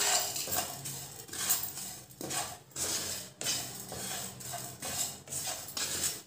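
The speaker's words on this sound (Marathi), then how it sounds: "आता हे सगळं जेवढं भाजलेलं आहे पुन्हा एकत्र करून आपण लास्ट भाजून घेऊया." Spices and grated coconut dry-roasted together in a pan over low flame give repeated scraping and clinking spatula strokes against the metal in an irregular rhythm, close and fairly loud, without talking.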